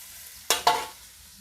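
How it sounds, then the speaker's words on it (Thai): Minced garlic stir-fried in a pan, two quick scraping strokes of a spatula with a brief sizzle over a quiet background, close and short. "เอากระเทียมสับลงไปผัดนะคะ"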